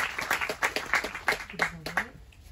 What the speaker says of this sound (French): on peut vous applaudir Nada Achen et Catherine Bonnet.